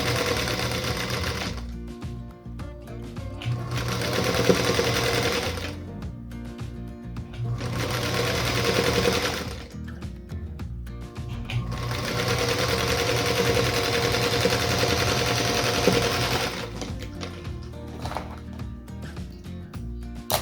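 A sewing machine stitches a Dandy Star quilt block in several sustained, close runs of rapid mechanical whirring, separated by brief pauses.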